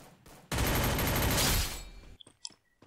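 Gunfire from the mobile battle royale game Garena Free Fire, in a ranked match: a dense burst of rapid automatic shots lasting over a second, loud and close, then a few scattered game sounds and clicks.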